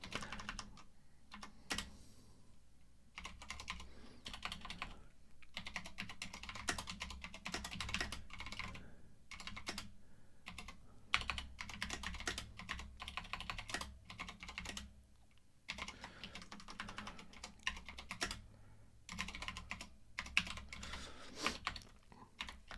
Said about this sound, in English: I apologize for being so poor at typing.